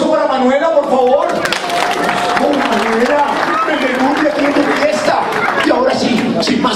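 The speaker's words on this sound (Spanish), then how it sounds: "Un aplauso para Manuela, por favor" Applause from a circus show audience, loud and continuous broadband clapping and crowd noise filling the whole stretch, with voices and shouts mixed in over the top.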